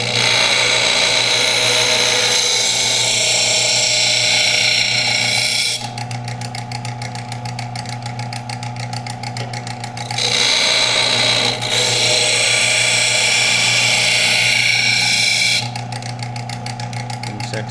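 A power sander grinds the bevel on a hunting knife with a loud, steady motor drone up close. The harsh high grinding comes and goes as the blade is pressed to the belt in two long passes.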